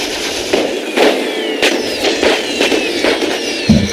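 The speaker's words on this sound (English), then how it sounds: "with my rocket launchers. And they're about to fire." Rocket launcher units firing in the medieval strategy game Medieval 2 Total War, a series of sharp whooshing bursts and cracks at irregular intervals, fairly loud and close over a continuous battle din, with no talking.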